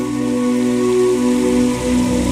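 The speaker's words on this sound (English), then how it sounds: "The fact that it started raining just now" Rain falls steadily in the Minecraft video game, a continuous loud patter with a droning backdrop and no voices.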